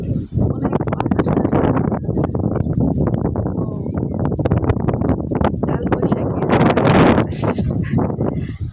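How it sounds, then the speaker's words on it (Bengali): Strong wind buffets a microphone on a house rooftop in Bangladesh, producing loud continuous gusty rumbling and roaring throughout, with a few sharper bursts. "অনেক বাতাস"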